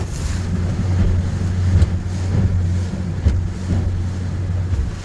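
A small boat's motor runs at raised RPM, a little over 5 miles an hour, on the open water of the Keweenaw area. It makes a steady low drone under wind buffeting and water splashing.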